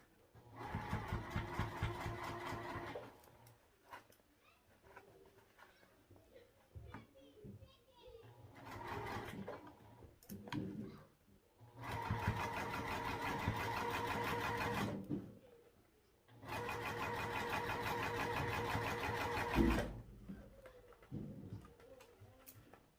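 A sewing machine stitches a seam around a circle of fabric for a sling, running in several long bursts separated by pauses, with someone talking in between and children audible in the background.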